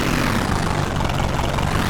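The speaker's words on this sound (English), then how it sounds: "we hear the engine start to work harder." A car engine in a video game drones loudly and continuously, a dense, steady roar that holds nearly constant across the short stretch, with no voices.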